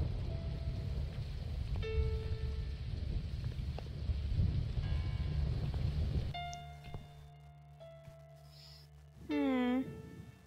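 Thunderstorm in the horror adventure game The Cat Lady: steady rain with low rumbles of thunder forms a dense background that drops away partway through, leaving quieter game sounds and a brief tonal effect near the end.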